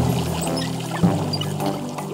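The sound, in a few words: water running from a tap, animated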